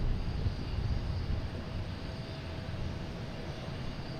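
An American Airlines Boeing 777 airliner at Boston Logan Airport, heard as a broad, continuous engine roar and rumble from a distance, steady throughout with no talk.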